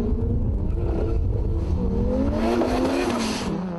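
Turbocharged Toyota Supras launch side by side in a drag race, engines roaring loud and close with rising revs through the run and a steady high-pitched whine over the blare.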